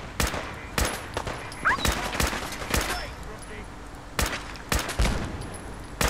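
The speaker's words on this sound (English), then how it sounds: "That was a grenade." Grenade and gunfire in Fallout 4 combat: a series of sharp, loud blasts and shots at irregular intervals over a noisy battle bed, with a voice talking in between.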